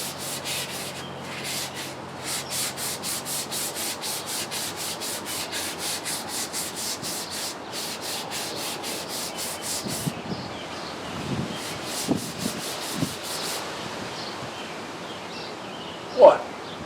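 Wooden rocking chair pieces are hand-sanded in rapid, rhythmic back-and-forth strokes, close and steady for about ten seconds, then slowing into scattered rubs and knocks.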